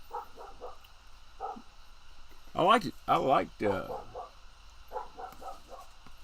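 A dog barks in a quick cluster of loud yelps mid-clip, with softer vocal sounds before and after, heard alongside a man's speech.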